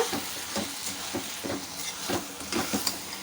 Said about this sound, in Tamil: இந்த முருங்கைக்கீரையை ஒரு தடவை நம்ம வந்து நல்லா வதக்கிக்கலாம்